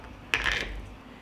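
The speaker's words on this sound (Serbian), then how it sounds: "treba mi šerpa i na dno ću staviti krpu i unutra staviti tegle." A single sharp clink as a glass jar is set into a cooking pot lined with cloth for pasteurizing, close and fairly quiet, with a brief ringing tail and no talking.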